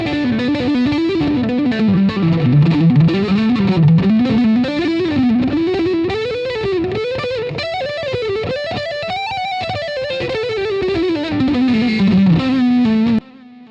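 Distorted electric guitar through a single-coil pickup plays a fast metal legato line, a continuous flowing run of notes rising and falling, loud and upfront with no talking.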